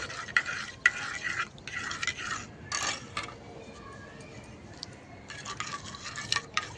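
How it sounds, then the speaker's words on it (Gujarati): A spoon scrapes and clinks in bursts through a pan of khaman tempering as lemon juice is mixed in, several short rhythmic stirring bouts with quiet gaps between them. "મિક્સ કરી લઈશું."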